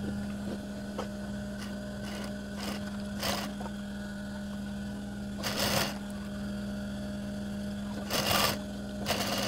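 An electric sewing machine stitches elastic onto a sleeve, a steady mechanical hum punctuated by several short rattling bursts of running stitches, close and moderately loud, with no talk.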